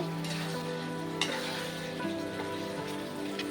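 Fish in a pan with Kashmiri chilli powder, stirred over medium heat for an old-style mourola fish bati chorchori, giving a steady close sizzle broken by a few scraping stir strokes and light clinks, with no one talking.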